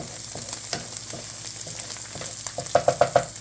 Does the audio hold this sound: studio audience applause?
no